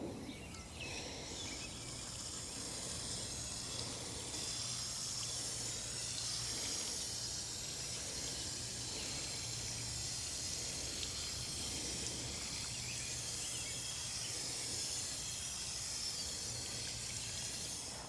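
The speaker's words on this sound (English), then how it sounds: "you see all that bubbling right there? That's the soil getting rehydrated. All of the air pockets are escaping and the soil is soaking up the water." Water soaking into freshly watered potted soil outdoors on a patio, a faint continuous fizzing and bubbling hiss as air pockets escape, steady throughout with no talking.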